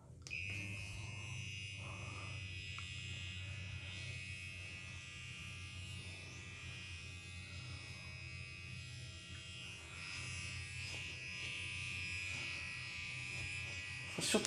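An electric facial cleansing brush buzzes steadily with a high, thin whine throughout, nearby and fairly faint, with a soft voice murmuring underneath at times.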